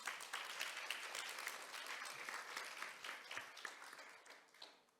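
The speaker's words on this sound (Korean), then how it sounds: "세 분의 패널 분께 좀 큰 박수 한번" A forum audience claps for three panelists, a steady wash of many hands applauding at moderate distance for several seconds, thinning out toward the end.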